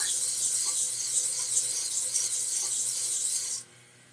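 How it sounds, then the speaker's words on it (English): Sandpaper of fine 240 grit rasps steadily against a turned wooden box lid, a close, continuous hiss-like rubbing for about three and a half seconds before stopping abruptly into quiet. "So I'm at 240 grit. That's a fairly fine grit of sandpaper."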